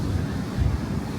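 Incoming tide washing onto the shore at Spurn Point, Yorkshire, a steady low rumbling surge of waves with wind noise buffeting the microphone throughout.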